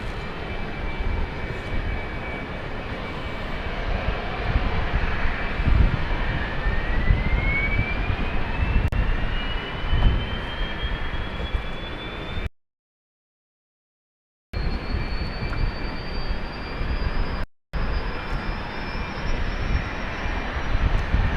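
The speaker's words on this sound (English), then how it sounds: "We've got the Edinburgh flight taxiing along, plodding along." A passenger jet taxiing at London City Airport on the Edinburgh flight, a steady engine roar with a slowly rising whine, heard alone at moderate distance and briefly cutting out twice.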